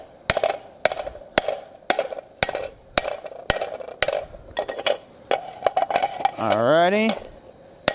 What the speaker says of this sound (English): the goal here is just keep your hammer blows nice and even